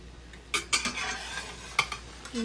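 Eggs are stirred and fry in a pan, with a few quick scraping clinks of a utensil over a soft, steady sizzle, close and quiet.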